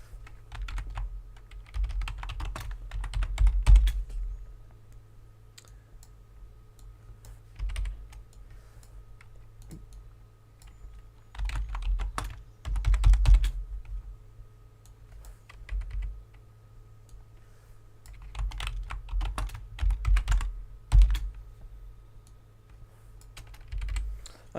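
Computer keyboard typing in bursts, with several clusters of rapid keystrokes separated by quieter pauses, close and moderately loud over a low steady hum, with no talking.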